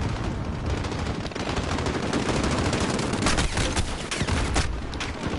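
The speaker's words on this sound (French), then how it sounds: "Oh là là, et puis la mitrailleuse, elle me vise que moi" Dense, continuous automatic gunfire from a machine gun in the Call of Duty Modern Warfare campaign, loud and close with rapid sharp bursts layered over booming shots for several seconds.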